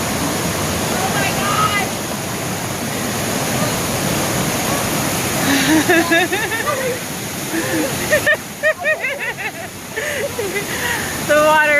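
A Havasupai waterfall pours into pools in a loud, steady rush of falling water, while people exclaim and talk excitedly over it.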